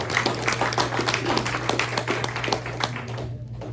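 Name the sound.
audience applause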